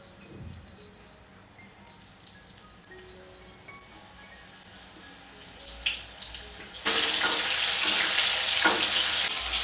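Food frying in two woks (kadhai) at once in a home kitchen: soft clinks and light sizzling, then a sudden loud, steady hiss that fills the last few seconds.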